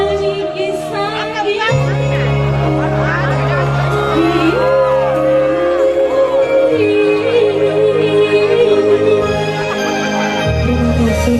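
Audience cheering and applause for a singer at a live show, a steady crowd roar with whoops. It stays loud throughout and blends with ongoing music and singing.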